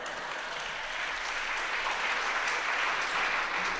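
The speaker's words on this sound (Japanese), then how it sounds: "今非常にこの全員が拍手したという感じでしたので" A concert audience claps steadily after a comic folk song on stage, a continuous, moderately distant wash of applause without talk.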